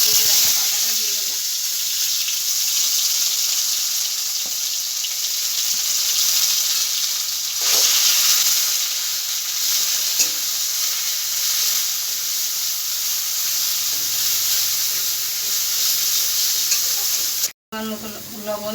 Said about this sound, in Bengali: তেল গরম হয়ে গেছে, এখন আমি পাতাটা